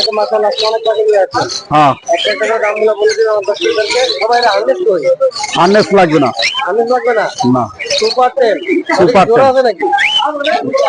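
Caged parrots and other birds chirp, whistle and tweet in a dense, continuous chorus at the Mirpur bird market in Dhaka, mixed with nearby people talking.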